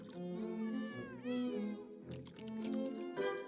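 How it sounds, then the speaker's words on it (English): Cats meowing in the animated film Scooby-Doo on Zombie Island, a string of drawn-out, wavering meows from several animals layered together, close and loud with no talking. "we end on Scooby befriending the cats."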